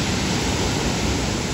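Strong ocean waves give a dense, continuous roaring wash of surf, loud and close, with no break and no voices.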